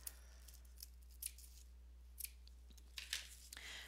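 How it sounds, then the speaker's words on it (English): Scissors snipping through fabric and stitching to open a sewn-in part of a toy, several quiet, separate crisp cuts spaced unevenly over a low steady hum in a quiet room. "Let's cut this just a bit more so everyone can see."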